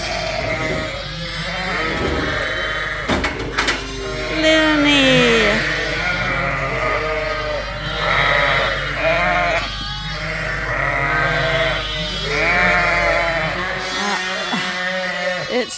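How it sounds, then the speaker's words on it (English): Suffolk ewes and their lambs bleat over one another in a busy, overlapping chorus, close and loud, with calls of varied pitch running almost continuously, then going quiet near the end. "just mayhem, everyone trying to find their lambs"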